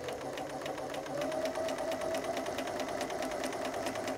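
A sewing machine runs steadily, stitching fabric pieces of a pineapple chunks quilt block in a quiet room; rapid, even needle strokes sound continuously and close.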